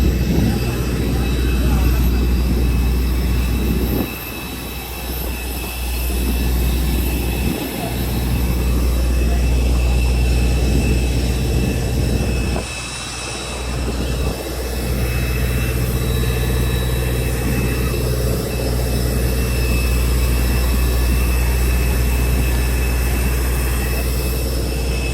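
A passenger jet's engines roar as a continuous low, heavy drone at an airport, loud and steady for the whole stretch, with a few brief dips, occasional knocks and some background voices.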